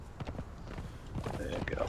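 Horse hooves clip-clop on stone steps in the game Conan Exiles, a quick uneven run of close footfalls mixed with game ambience and someone talking over them.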